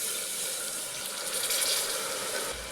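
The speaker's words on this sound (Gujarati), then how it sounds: "તો આપણે તેમાં 1 ગ્લાસ ભરી અને પાણી નાખી દઈશું." A glassful of water pours into a stuffed brinjal curry, a continuous splashing gush that stays fairly loud and steady for the whole short stretch, with no voices.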